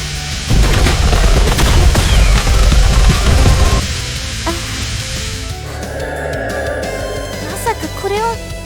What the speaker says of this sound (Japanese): スタビレイザー発射。